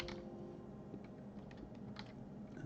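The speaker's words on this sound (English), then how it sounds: "as I type that" Fingers type on a computer keyboard in a quiet room, producing soft, faint, irregular key clicks.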